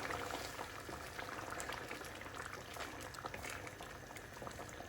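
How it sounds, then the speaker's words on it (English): A pot of kidney bean curry (rajma) simmers on the stove, bubbling and popping steadily throughout with a dense, continuous crackle of small bursts, close and moderately loud, with no talking. "just bubbling away."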